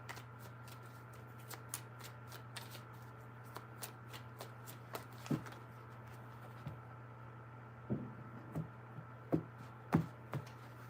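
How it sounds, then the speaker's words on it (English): Quiet riffling and soft card snaps of tarot cards being shuffled repeat in bursts, close and clean, with louder shuffles near the end. "3 shuffles."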